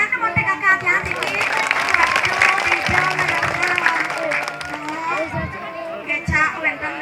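Applause rises from an audience at a lively Balinese comedy show, clapping steady for about seven seconds with crowd chatter, shouting and excited voices mixed in.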